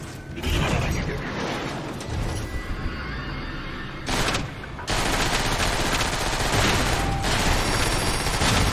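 Sustained gunfire from the Transformers War for Cybertron video game as locks on power cells are shot, dense rapid bursts with mechanical clanks, loud and continuous with short breaks.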